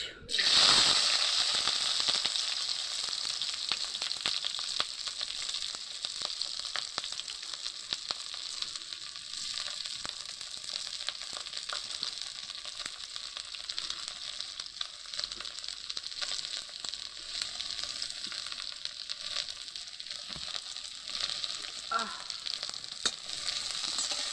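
Onions sizzle and fry in mustard oil in a pan on a clay stove, just after Surma fish was fried; a steady, hissing crackle runs throughout with occasional stirring clatter and faint talk in the background.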